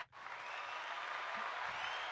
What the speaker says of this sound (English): I thought you were going to do the corny applause